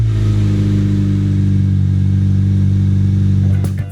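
Honda Brio engine with a modified aftermarket exhaust idling then revving, a loud deep steady drone with strong low harmonics, close up and alone, tapering at the end.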